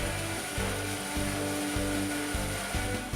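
A Hammer saw with a 31 cm (12 inch) cutting height cuts solid wood parts for a chair, giving a steady, loud machine roar with a low hum that pulses at regular intervals throughout. No one speaks.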